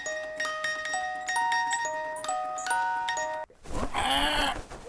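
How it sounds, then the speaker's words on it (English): A music box plays a short tinkling tune of clear plucked metal notes, then stops abruptly and gives way to a loud squawking bird-like cry. "he tripped over the box just like Stone did and started the music"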